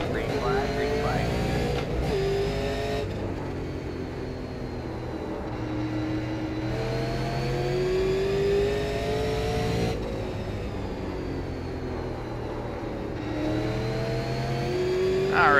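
Super late model race cars in the iRacing video game accelerating at the green flag, a loud sustained roar of engines climbing in pitch across the whole stretch, with a voice talking over it.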